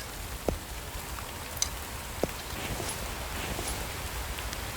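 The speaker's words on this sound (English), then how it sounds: "I heard the rain instead of the snow." Rain falls in a video game as a soft continuous hiss, broken by a few sharp, brief drips or taps early on.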